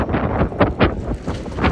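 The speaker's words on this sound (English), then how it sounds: "it's windy though" Gusty wind buffets the microphone in low rumbling bursts on a Manhattan street, loud and close, with no clear voices.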